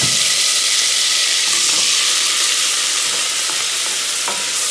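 Sofrito fries loudly in a pot for a garbanzo and pork trotter stew, giving a dense, continuous sizzle and hiss close to the listener, with a few faint scrapes.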